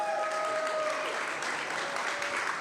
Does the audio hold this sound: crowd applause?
yes